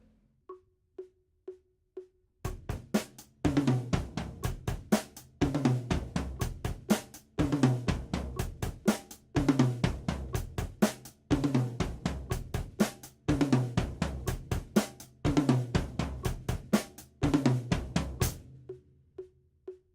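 A drum kit fill stepping down through the high, medium and low toms, looped over a steady beat. A few soft clicks lead in, then clear repeated cycles of punchy hits follow before the playing stops.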